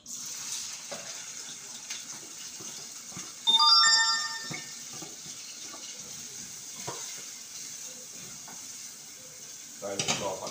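Seasoning poured into a hot oiled pot on a stove, a steady soft sizzle throughout with a brief brighter clatter midway and faint kitchen knocks, no voice over it.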